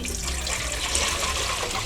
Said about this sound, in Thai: จากนั้นก็เอาน้ ำค่ะ น้ำใส่หม้อเนาะ